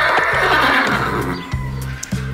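A horse whinnies loudly and close, followed by rhythmic hoof clip-clops, with a few sharp knocks near the end and no talking.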